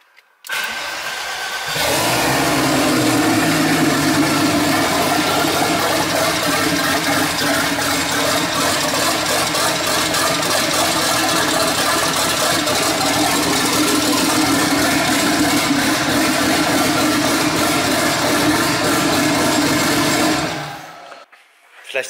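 A Golf Cabrio VR6 turbo engine cranks and catches, then idles loudly and steadily for about twenty seconds before cutting off.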